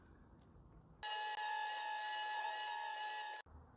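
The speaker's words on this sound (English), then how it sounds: "There you go, 2 holes drilled" A small power drill boring holes in a tiny dollhouse doll gives a high, steady whine for about two and a half seconds, starting and stopping sharply, with quiet handling noise before and after.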